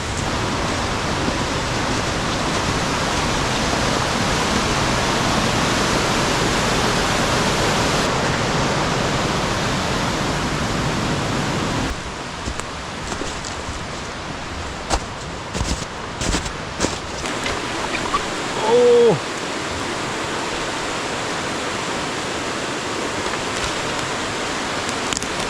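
A spring river in Nova Scotia rushing steadily, a loud broadband wash of flowing water that continues throughout, with a few faint knocks and rustles near the end.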